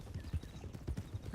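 Horse hooves clip-clop in a steady, fairly quick rhythm in a ranch roleplay video game, soft and low with no talk over them.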